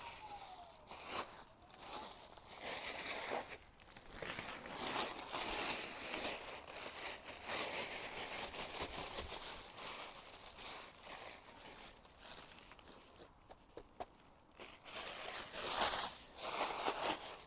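A plastic bag crinkles and rustles continuously while being handled during potting work with flowers, with irregular crackling bursts, close and moderately loud, and brief quieter pauses.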